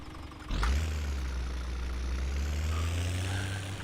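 An old tractor engine in a farming game starts up with a sharp onset, then settles into a steady, low, rumbling idle that holds close and loud, with no voices.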